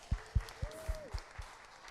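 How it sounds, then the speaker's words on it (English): Audience applause at a song contest sounds as a handful of distinct, evenly spaced claps, fairly faint, with a soft tonal whistle drifting across the middle. "give them a huge round of applause"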